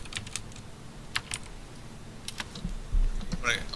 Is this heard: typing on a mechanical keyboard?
yes